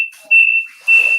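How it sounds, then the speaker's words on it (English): Steady high-pitched electronic-sounding chirps, taken for crickets, ring through a quiet meeting room in two pulsing bursts with a thin continuous tone between. "Those are crickets."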